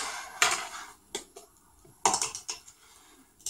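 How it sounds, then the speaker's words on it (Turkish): A knife chops vegetables for a salad on a plate or board in a home kitchen, with a handful of separate sharp clacks and knocks spaced irregularly, close by, with quiet gaps between cuts. "Salatamızı da keselim."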